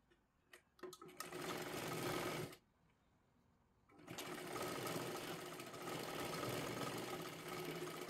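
Sewing machine running in two long bursts of steady stitching on a size 37 katori blouse, separated by a short quiet pause, with a few clicks before the first run; loud and close.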